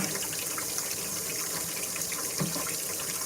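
Water from a kitchen tap gushes steadily into a sink full of soaking dirty dishes, a loud, constant rushing stream with no talk.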